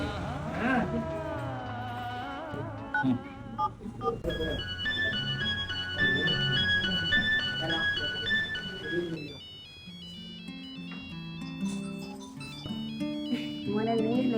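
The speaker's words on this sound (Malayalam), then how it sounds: "എൻ്റെ മോന്റെ ഫോണിൽ കോൾ വരുന്നുണ്ടല്ലോ" A mobile phone rings with an incoming call, its melodic ringtone chiming in repeated electronic note patterns throughout, loud and close, with a brief shift in tune partway through.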